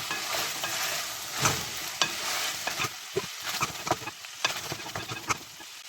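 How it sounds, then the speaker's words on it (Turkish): Pearl onions and garlic sauté in a pan, a soft sizzle under frequent stirring, with scrapes and knocks of the spoon getting busier toward the end, close up and with no talking. "soğanlarımızı ekliyoruz. Yavaş yavaş. Şöyle küçükçe bir kavuralım."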